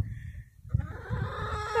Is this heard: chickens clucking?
yes